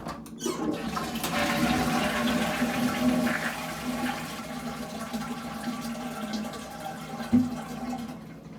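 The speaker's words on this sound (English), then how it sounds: "here's the toilet" A toilet flushes in a small budget hotel bathroom at an airport, a steady close rush of water that runs for about seven seconds with a brief clunk near the end.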